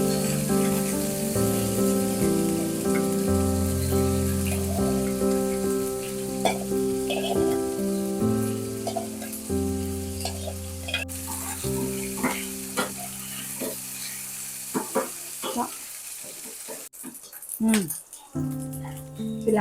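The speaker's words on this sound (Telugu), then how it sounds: "కడాయి పెట్టుకొని కడాయిలో కొద్దిగా ఆయిల్ వేసుకొని, ఆయిల్ కొంచెం హీట్ ఎక్కాక ఉడికించి ముందే పెట్టుకున్నాం కదా, దాన్ని తీసి ఆయిల్లో వేసేసుకోవాలి" Mutton pieces drop into hot oil in a kadai and fry with a steady sizzle. Background music and a talking voice run underneath, and there are occasional stirring clatters toward the end.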